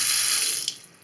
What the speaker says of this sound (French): un robinet qui coule